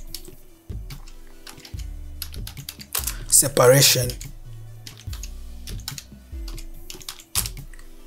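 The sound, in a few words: computer keyboard keys being pressed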